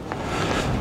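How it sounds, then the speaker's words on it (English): Strong wind gusts across the summit of Snowdonia, buffeting the microphone as a steady, close, full roar that lasts under a second, with no talking. "this is the windiest point now. I'm on the summit."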